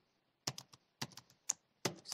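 Close, crisp keystrokes on a computer keyboard while entering Python plotting code, arriving in three or four short bursts of quick taps separated by pauses.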